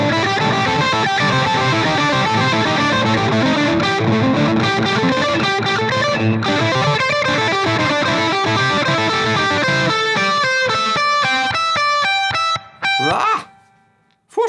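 Electric guitar run through a delay placed ahead of the distortion, giving a loud, continuous, smeared wash of distorted notes with repeats piling up, then sparser, choppier phrases and a brief dropout near the end.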